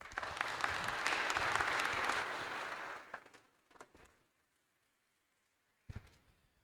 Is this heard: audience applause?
yes